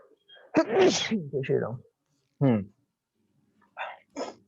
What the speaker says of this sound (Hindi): एक मिनट में छींक मारा रही हूँ